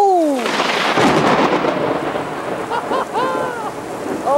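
A heavy lightning storm with loud, close thunder rumbling over a steady rush of hard rain, with a few high whistling tones and no talk.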